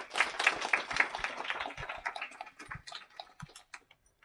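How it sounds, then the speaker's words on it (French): An audience applauds after a high school presentation, a burst of clapping that thins out into a few scattered, fading claps. "Vous pouvez encore les applaudir, je pense."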